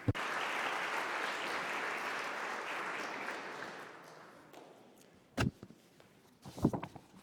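Audience applause for Jeffrey Sachs at an ILO conference, starting after a sharp onset, sustained for several seconds and then tapering off, followed by a few isolated knocks or bumps near the end.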